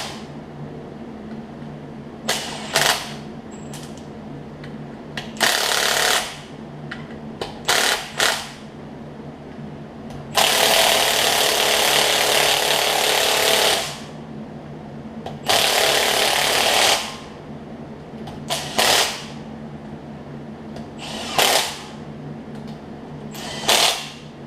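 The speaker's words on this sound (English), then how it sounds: "I've got this impact on a pretty low setting" An impact wrench runs bolts into a Craftsman DLT3000 riding mower on a low setting, with repeated whirring bursts of varying length, some long sustained runs and short hammering pulses, close and loud over a faint steady hum.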